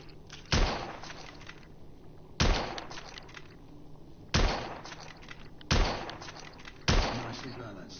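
Five sharp gunshots ring out in The Order: 1886, spaced roughly a second or two apart, each a loud close crack with a short decaying tail over low background ambience.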